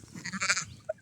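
Sheep halfway through its molt on an isolated Scottish coastal beach gives a single short, hoarse bleat, close and fairly quiet, over wind and outdoor background noise.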